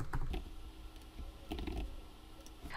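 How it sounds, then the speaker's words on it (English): Names are typed on a computer keyboard, a run of soft, irregular key clicks close by with no talking, over faint room hiss. "start typing the names of my colleagues here in this field"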